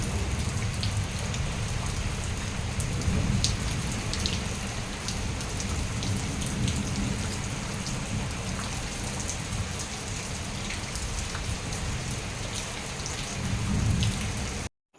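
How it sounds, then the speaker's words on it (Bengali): Steady rain falls hard on surfaces outdoors during a stormy day, a dense, continuous patter close by that stays loud throughout before cutting off abruptly at the end. "এই যে বৃষ্টি কমে গেছে"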